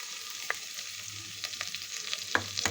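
Boiled potatoes and peas sautéed in a pan with curry leaves and turmeric: a soft, fairly quiet sizzle broken by several sharp spatula scrapes and taps, with no talking.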